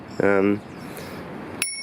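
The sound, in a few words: bicycle bell ringing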